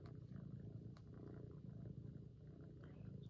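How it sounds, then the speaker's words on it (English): A cat purrs softly and continuously up close, a low rhythmic rumble with faint clicks over quiet background. "He's purring."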